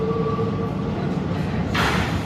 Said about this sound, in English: So my train is coming.